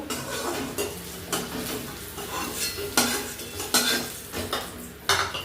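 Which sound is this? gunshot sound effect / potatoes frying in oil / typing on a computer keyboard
potatoes frying in oil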